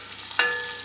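Carrots, onions and garlic hit a hot cast iron pot beside a browned chuck roast, setting off a sudden close sizzle that flares up and then settles into a quieter fry.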